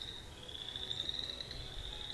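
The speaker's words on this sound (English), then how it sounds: "Listen to those frogs." A steady high trilling chorus of frogs carries across a spring wetland in the Minnesota northwoods, faint and distant over soft background noise.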